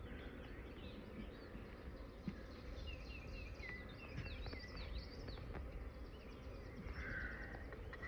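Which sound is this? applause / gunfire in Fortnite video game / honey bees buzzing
honey bees buzzing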